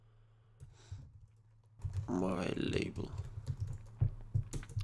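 Code being typed on a computer keyboard while building an iPhone/iPad app, with quick, close clicking keystrokes in uneven bursts and a spoken voice over part of the typing.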